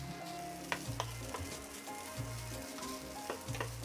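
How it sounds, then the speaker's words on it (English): Yakisoba noodles with sauce frying in a pan beside okonomiyaki, stirred and broken up with two spatulas: a steady low sizzle with repeated sharp scraping and tapping of metal against the cooking surface. "Break it up with 2 spatulas and let cook until it has a little color on it."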